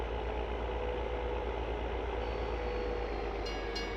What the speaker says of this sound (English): Oh my gosh, the train's coming.